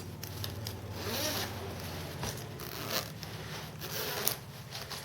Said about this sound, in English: if we undo this zipper all the way around